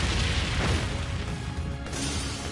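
Brionac weapon firing in the Trails of Cold Steel video game: a dense, loud booming blast with sustained crackling roar that rumbles on for a couple of seconds, with a renewed surge near the end.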